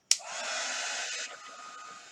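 A hair dryer used to dry chalk paste on a craft project switches on with a sharp click, then gives a steady close airy whoosh that drops slightly in level partway through, with no talking.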